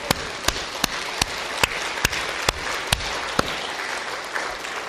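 A Korean church congregation at a revival service applauds in praise: a steady wash of clapping runs throughout, punctuated by sharp, evenly spaced louder claps roughly every half second.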